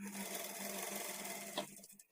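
A sewing machine runs steadily for about a second and a half while stitching piping onto a blouse neckline, giving a continuous mechanical whir. It ends in a brief clack and stops.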